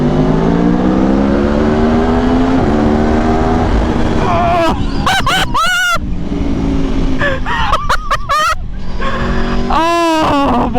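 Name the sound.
motorcycle exhaust revving in tunnel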